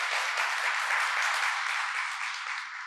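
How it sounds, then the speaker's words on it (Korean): Steady applause from a crowd, a dense wash of clapping that carries on throughout and eases off slightly at the end. "여러분 큰 박수로 환영해 주시면 고맙겠습니다"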